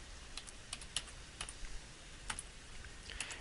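A password is typed on a computer keyboard: quiet, irregular key clicks in short bursts, close and faint, with no talking.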